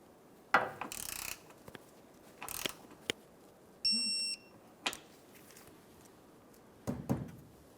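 A torque wrench ratchets and clicks while a fuel tank strap bolt is tightened to spec on a 2004-2008 Ford F-150 5.4L V8; scattered mechanical clicks and clunks, a short whine of metal, no talking.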